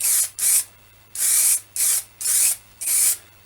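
Chestnut ebonising lacquer is sprayed onto wood from an aerosol can in six short even bursts with brief pauses between, close and crisp with no talking.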